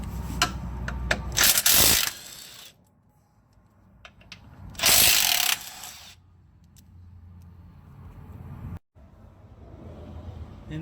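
A ratchet works 10 mm bolts out of the cradle of a Dodge Grand Caravan during control arm replacement, giving two loud bursts of rapid clicking among quieter handling noises and clinks, close by with no talk.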